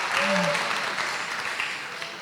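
Applause from a church congregation during a sermon, a steady spread of clapping that holds evenly through the short stretch, with a brief voice-like tone near the start.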